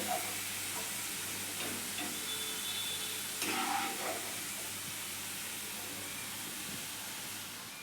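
Bitter gourd pieces fry in hot oil for kakarakaya fry, giving a steady close hiss and sizzle with faint crackles throughout.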